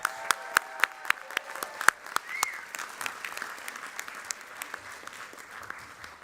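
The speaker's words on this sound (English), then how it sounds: "Please now join me in a round of applause for all 3 award winners" Audience applause at a graduate hooding ceremony, for three award winners: claps start sharp and distinct, then settle into a steady, fading patter of many hands in a large hall.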